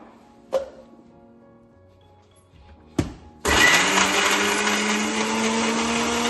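A mixer grinder whirs loudly for about three seconds, grinding bottle gourd peel chutney with jaggery, after two sharp clicks or knocks.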